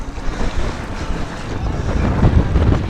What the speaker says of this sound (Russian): Да, ветер, конечно, неприятный.